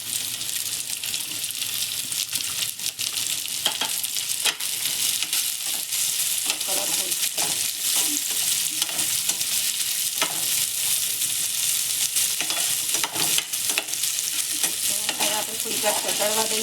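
Chopped carrots and capsicum stir-fry in a hot pan with a steady, loud sizzle and frequent scraping and stirring clatter throughout, no voices.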